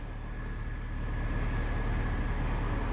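A Mitsubishi Lancer engine, recently started after sitting unused for a while, idles with a steady low rumble and faint hum, constant and moderately loud with no talking.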